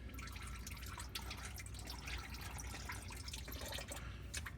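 Engine oil draining from a Chevy 6.6L Duramax diesel truck during an oil change, a faint steady liquid trickle and dripping under a constant background hiss.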